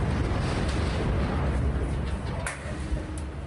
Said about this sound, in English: The sounds of explosions near constant as people head for the escape corridor